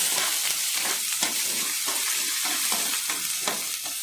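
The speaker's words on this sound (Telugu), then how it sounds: "ఇప్పుడు అన్నీ ఫ్రై అయ్యేదాకా బాగా ఫ్రై చేసుకోవాలి" Carrots, green chillies and curry leaves frying in a pan, a steady close sizzle broken by repeated scraping stirs at an uneven rhythm, with no voices.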